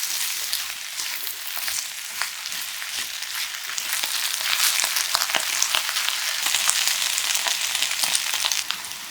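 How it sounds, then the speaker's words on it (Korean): Onion, kohlrabi and potato fry in a pan with a loud, continuous close sizzle and crackle, with faint stirring scrapes throughout and no talk. "양파가 색깔나기 시작하면 콜라비와 감자를 넣고 볶아줍니다."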